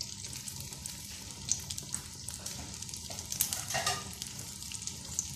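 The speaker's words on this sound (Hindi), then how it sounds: "ये मैंने एक डाल दिया है, ये फ्राई हो रहा है" Chapli kabab frying in hot oil gives a steady, moderately loud sizzle throughout, with a few brighter crackles and pops scattered across it and no one talking.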